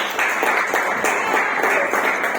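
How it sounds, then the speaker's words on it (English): A dense patter of clapping from a group fills the whole stretch, steady and fairly loud, with no one speaking over it. "big round of applause for that."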